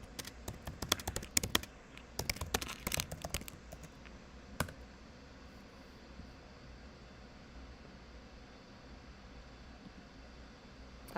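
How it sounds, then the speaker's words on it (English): Rapid bursts of keystrokes on a computer keyboard during a livestream, clustered in the first few seconds with one later tap, then fading into quiet room hiss. "I will type the same thing into the chat just in case they can't hear me"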